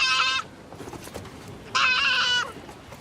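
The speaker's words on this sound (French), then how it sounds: "Je n'aime pas les chèvres. Elles ont mauvais caractère, elles crient tout le temps." Goats in a Mongolian herd give two loud, close bleats, each lasting under a second, with a short quiet gap between them and no voices.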